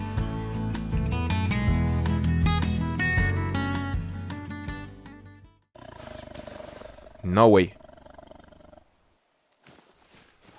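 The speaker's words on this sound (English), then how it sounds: "I'm hearing a growl." Tiger growl in the hunting game theHunter Call of the Wild on the Sundarpatan map, a single deep roar swelling loudly after a stretch of background music, with someone speaking briefly nearby.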